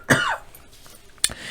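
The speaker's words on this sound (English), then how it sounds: "Excuse me for my cough." Two sharp coughs, a harsh one at the start and a shorter one about a second later, close to the listener with quiet between.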